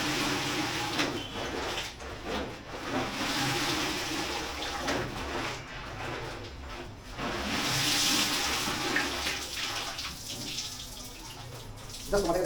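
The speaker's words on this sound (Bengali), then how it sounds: "এরপরে যেটা করবো সেটা হচ্ছে আমরা পরিষ্কার জলে এটাকে 2-3 বার ডিপ করবো।" A riding jacket is dipped two or three times into a basin of clean water, giving a steady, close sloshing and splashing wash with a few brief louder surges, and no one talks.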